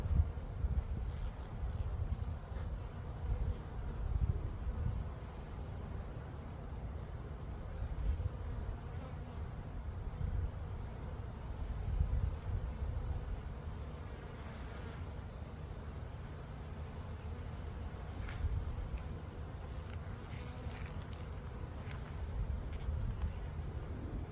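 Honeybees buzz around an open hive on a hot day, a soft, continuous low hum with faint passing buzzes and occasional light clicks, no voices.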